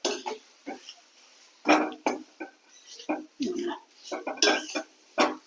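Potato masala filling is stirred and pressed in a pan, with intermittent clatters and scrapes of a utensil against metal heard up close between stretches of talking.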